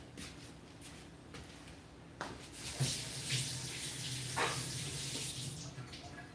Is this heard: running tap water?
yes